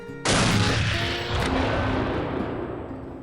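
Black powder mortar and cannon fire at a Civil War skirmish competition: one huge close boom with a long rolling, crackling decay and faint distant reports.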